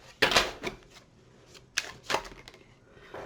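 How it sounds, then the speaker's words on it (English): A deck of tarot cards is shuffled in a few short, crisp riffling bursts separated by pauses, close and fairly quiet. "So let me get a few more shuffles in here"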